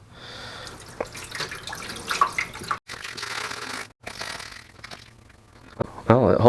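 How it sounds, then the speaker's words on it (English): Water pours into a 3-gallon hydroponic NFT system reservoir in uneven bursts of splashing and trickling, with brief pauses and a louder splash at the end, close and moderately loud. "I might as well fill up the reservoir now"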